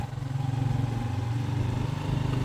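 A motorcycle engine thrums steadily while riding toward Tangail, a low pulsing drone with a faint rattle, close and continuous without speech.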